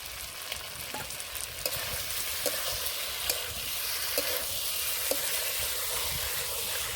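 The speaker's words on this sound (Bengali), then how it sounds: "এবার চিংড়ি মাছগুলো দিয়ে দেব" Prawns sizzle loudly in a hot pan with green jackfruit curry. A dense, bright frying hiss runs throughout, with regular light taps and scrapes from a spatula. The sound is close and has no talk over it.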